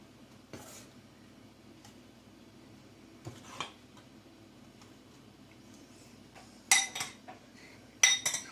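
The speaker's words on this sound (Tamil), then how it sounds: "எல்லாத்தையும் நல்லா மிக்ஸ் பண்ணிக்கலாம்." Idli batter with grated carrot, chopped green chilli and coriander being stirred in a bowl: quiet scraping and a few sharp spoon clinks against the vessel, louder near the end, with no talking.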